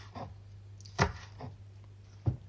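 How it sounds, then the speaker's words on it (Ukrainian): Knife chopping green onion and green garlic into small pieces on a board, about four distinct thuds at uneven intervals, close and fairly quiet with a faint hum underneath. "А ось цибулю зелену та зелений часник я нарізаю на невеликі шматочки."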